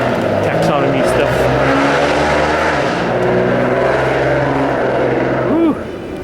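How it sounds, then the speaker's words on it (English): A car engine roars loudly nearby near Disneyland, revving hard in a sustained, rising drone with a final upward sweep before easing off. "Someone's roaring his engine."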